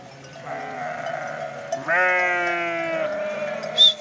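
A sheep bleats nearby in a couple of wavering, drawn-out calls, with a short higher cry at the end.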